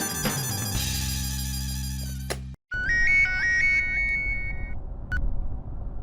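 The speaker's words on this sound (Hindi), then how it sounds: "हाँ मैं अभी कॉल लगाती हूँ।" A phone rings with a bright electronic ringtone melody, close and loud, in a scene from the sitcom Taarak Mehta Ka Ooltah Chashmah. It follows a stretch of background music that cuts out just before the ringing starts.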